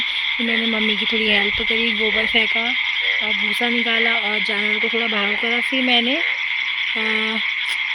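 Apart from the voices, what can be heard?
frogs croaking from paddy field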